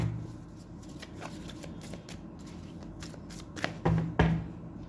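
Tarot cards being handled and shuffled, a steady papery riffling with a few louder slaps and flutters near the end, close and fairly quiet with no voice.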